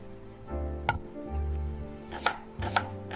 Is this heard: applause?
no